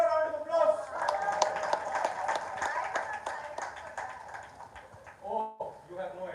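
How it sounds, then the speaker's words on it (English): Audience applause at an open mic event, a dense run of clapping from a crowd that carries steadily for several seconds, then thins out as voices and talking come through near the end. "Give her a round of applause."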